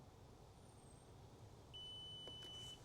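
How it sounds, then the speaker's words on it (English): A ThorBolt X1 smart lock gives a short electronic beep, faint against a low background rumble, signalling it is ready to pair. "We hear that beep, it will indicate it's ready for pairing."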